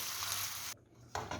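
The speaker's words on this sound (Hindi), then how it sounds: "ये मैंने इसमें मैश किए हुए आलू शामिल कर दिए हैं और इनको अच्छी तरह से हमने मिक्स कर लेना है" Mashed potatoes with spice paste are stirred in a frying pan for batata vada, a faint sizzle and scraping that drops out briefly in the middle and then resumes, with no talking.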